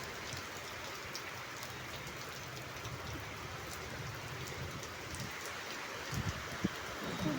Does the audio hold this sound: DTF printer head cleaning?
no